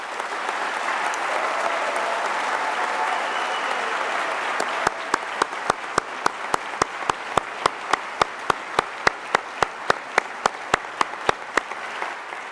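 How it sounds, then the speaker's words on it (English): Audience applause at a College of Law commencement ceremony: a steady, dense wash of clapping from a large crowd. It then turns into a single rhythmic clap repeating at a regular beat over the remaining applause. "So please, would you give them a round of applause?"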